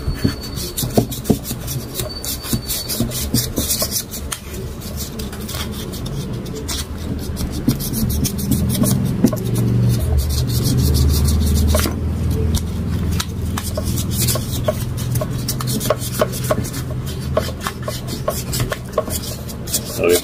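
Fine 1000-grit sandpaper rubs over the rusty rotor of an Asahi electric fan that won't turn, making a steady, close, rasping scrape in repeated strokes with brief pauses.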